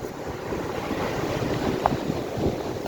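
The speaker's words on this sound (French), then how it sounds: "Je suis obligé de crier fort hein, parce qu'il y a beaucoup de vent." Strong wind buffets the microphone on a beach after a storm, a steady loud roar with gusts and surf-like wash throughout, no one talking.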